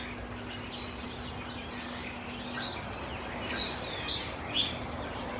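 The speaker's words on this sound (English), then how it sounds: "Beautiful bird singing away today." A bird sings outdoors, giving scattered bright chirps and short trills over a steady low hum and background noise; it is moderately faint and grows busier in the second half.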